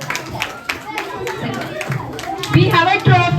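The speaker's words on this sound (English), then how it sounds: "A big round of applause to Nancy ma'am as well." At a school Independence Day celebration, an audience applauds in a busy patter of hand claps, with children's voices and talk mixed in throughout.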